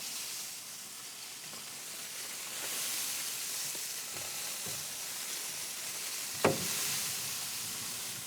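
Chicken quarters sizzle over direct heat on a hot smoker, a soft continuous frying hiss with faint crackles and pops, one sharper snap standing out near the end, no talking.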